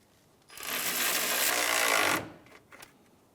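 A power tool tightening bolts on a fan assembly in a 2003-2011 Honda Element engine bay, one close buzzing burst of about two seconds followed by a few faint clicks.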